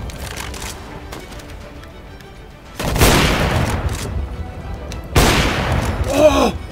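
Two loud, booming AWP sniper rifle shots ring out a couple of seconds apart in Counter-Strike: Global Offensive, each a sharp crack with a long echoing tail over quieter game background noise.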